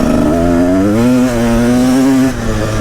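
A Husaberg TE 300 two-stroke dirt bike engine revs up close and loud, its buzzing tone climbing steadily and holding high before easing off slightly near the end.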